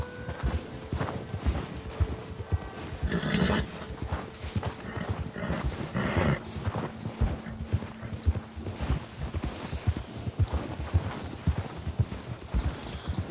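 A horse's hooves clip-clop in rhythmic, steady beats across snowy, rocky mountain terrain in Red Dead Redemption 2, close and continuous, with occasional snorts and tack jingles mixed in.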